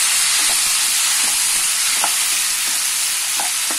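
Tomatoes and onions cooking together in a pan for paneer butter masala give a steady, close sizzling hiss, with soft scraping stirs at an irregular pace.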